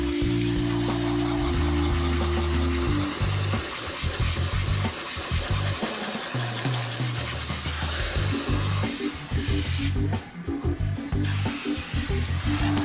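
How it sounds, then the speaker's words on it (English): A water sprayer rinses hair at a salon shampoo bowl, giving a steady, close hiss of running, splashing water that continues throughout with a low tonal hum underneath, no talking. "So rinsing is very important when you're at the shampoo bowl"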